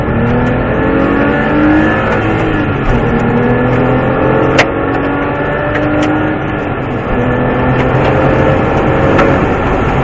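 A Porsche 997 GT3 race car with an Aerokit accelerating hard on the Mettet circuit, its engine note climbing in steady sweeps through the gears, loud and continuous with road and wind noise.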